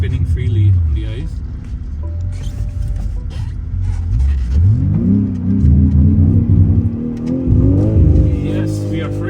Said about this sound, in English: Spinning freely on the ice.